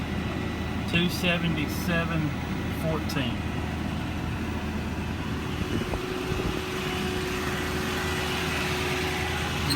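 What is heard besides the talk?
2009 Ford F550 truck engine revving with power takeoff engaged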